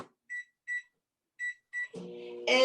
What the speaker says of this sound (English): first let me put the butter in the microwave